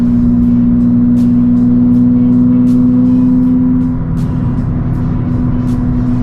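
A Nissan 350Z DE fitted with a full HKS exhaust is driven at steady speed: a loud, deep, continuous exhaust drone heard from the cabin, its pitch easing slightly partway through, with no talking.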